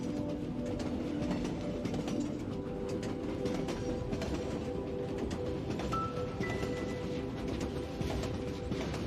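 A night train runs steadily along the tracks, a low continuous rumble with faint rhythmic clatter, quiet and unbroken throughout with no voices.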